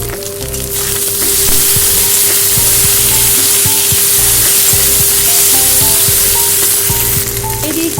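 Loud, close sizzling as ginger, onion and chopped tomato fry in oil, with steady hissing and repeated scraping and clacking of the stirring spoon throughout.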